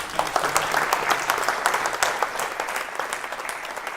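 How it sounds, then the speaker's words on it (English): An audience at a talk breaks into dense, sustained applause, a steady wash of many hands clapping at once that stays level throughout with no speech over it. "So big round of applause first."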